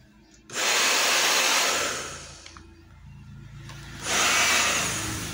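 A repaired hair dryer is switched on and blows with a loud steady whooshing whir, then dips in level for a moment before surging back up to full strength, with no talk.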